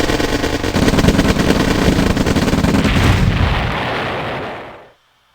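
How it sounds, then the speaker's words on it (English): A real-time strategy game explosion booms loud and close, a dense crackling blast that swells and then fades out into silence. "Getting just a bit too close when the explosion occurs."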